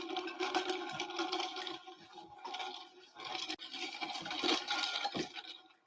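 A drink being stirred and mixed up close, a continuous scratchy swishing and rattling with brief pauses and a sharp knock near the middle, no talking.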